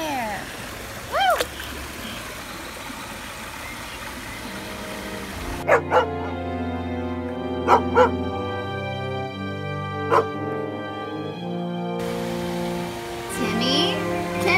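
A little dog barks in short, separate yaps, several spread across the span, over background music and surrounding talk.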